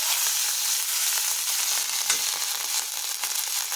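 A loud, steady sizzle of ground coriander, cumin, ginger, garlic and onion paste frying in hot oil, crackling continuously throughout with no voices.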